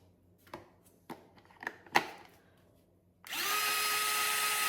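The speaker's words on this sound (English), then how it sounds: "I'm gonna grind it up a little more" A few scattered clicks and knocks of handling are followed by an electric grinder starting up, a loud steady whine as dehydrated homegrown green onions are ground into powder.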